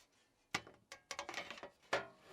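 Screws are driven in to fasten the cover shut on a Yeastar P-Series PBX hardware unit, giving several sharp, close mechanical clicks and ratcheting ticks in short bursts with pauses between them.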